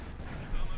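Panther tank cannon fire in Company of Heroes 2 lands as a heavy, booming shot with a deep low rumble, loud and close, under a commentator's speech.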